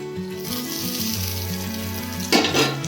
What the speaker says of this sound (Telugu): ఇదే ఆయిల్లో వంకాయ ముక్కలు వేసుకుంటాను ఫ్రెండ్స్.